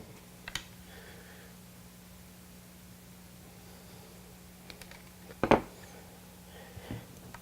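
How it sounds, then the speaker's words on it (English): A small wire snipper cuts through several too-long wires on a back-lit wall sign build, giving faint isolated clicks against quiet room hiss, with one sharper, louder snip near the end. "So I'm going to cut these wires off"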